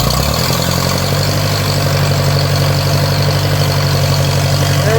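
A V8 engine on a choke fires up within the first half second and settles into a steady, loud, rumbling idle with a strong low throb that continues unbroken to the end.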